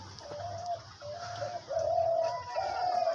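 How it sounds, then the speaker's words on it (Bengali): A hunting dove calls with a series of soft, hollow coos, close and clear and repeated several times in a steady rhythm over a low background hum, with no talking. "আমার কাছে যেগুলো পাখি রয়েছে রাত দিন 24 ঘন্টায় ডাকে"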